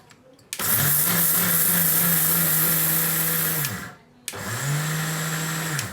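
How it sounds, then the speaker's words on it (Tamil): Soaked rice being powdered in a mixer grinder jar: a loud, steady motor whine runs for about three seconds, stops briefly, then starts up again for a second run. "இந்த அரிசியில் அரைவாசியை மட்டும் நம்ம முதலாவதாக இந்த மிக்சி ஜாரில் சேர்த்து பவுடர் பண்ணி எடுத்துக்கொள்கிறேன்"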